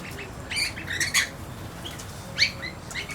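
Harsh, shrill rainbow lorikeet squawks come in short bursts over a quiet background, a few scratchy calls clustered together, moderately close.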